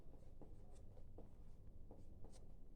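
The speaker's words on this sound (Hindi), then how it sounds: "फिर लिखेंगे कि यूक्लिड" Chalk or marker scratches across a classroom board during a math lesson, short strokes repeating every few tenths of a second, faint under a low steady room hum, with no talk.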